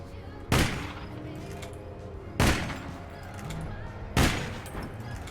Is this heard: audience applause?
no